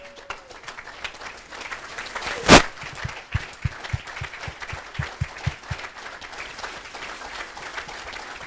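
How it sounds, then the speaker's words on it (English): A racquetball Hall of Fame induction ceremony audience applauds its past and present members, scattered clapping with one loud sharp burst early, then a run of distinct individual claps tapering off. "please stand up for a round of applause and appreciation"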